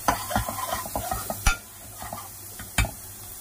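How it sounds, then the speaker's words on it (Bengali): Spices for a homemade fish curry masala are stirred and sautéed in a pan over medium flame. A spatula scrapes and taps the pan repeatedly against a soft sizzle, and a couple of sharper knocks stand out. "এবার এই সবগুলো মশলাকে একসাথে আবার একটুখানি কষতে দিয়ে দেবো 2 মিনিটের জন্য"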